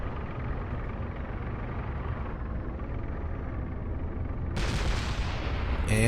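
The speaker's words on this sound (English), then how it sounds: "he's let loose a couple of cannons" Mech cannon fire in the video game MechWarrior Living Legends: distant booming shots over a rumbling battlefield bed, with a sharper, brighter burst near the end.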